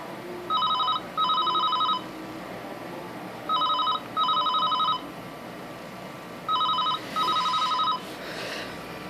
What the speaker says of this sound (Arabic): جاري الاتصال